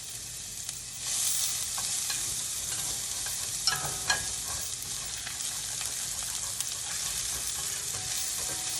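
Shallots sauté in a pan with a steady, quiet hiss of sizzling oil, broken by a few brief scraping and stirring clinks, no voice present.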